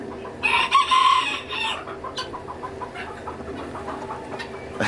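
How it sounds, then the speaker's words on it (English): A rooster named Rusty crows once loudly and up close, a rising strained call, followed by softer scattered clucks and farmyard murmurs. "It's Rusty. Rusty the rooster."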